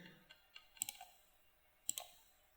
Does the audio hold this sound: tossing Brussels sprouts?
no